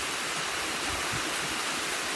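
A Welsh waterfall pours in a steady, dense rush of water, loud and close with no pauses and no voices.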